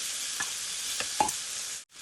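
Shrimp fry for pinakbet, a steady bright sizzle with a few soft stirring scrapes near the pan, ending in a brief cut-off before the sizzle resumes.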